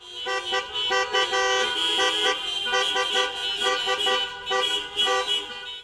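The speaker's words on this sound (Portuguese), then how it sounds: "E é claro que não pôde faltar o conhecido buzinaço, em homenagem ao nosso querido São João Batista." A festive street procession for the feast of Saint John the Baptist fills with a loud chorus of car horns, many overlapping toots and blasts in a continuous, pulsing din.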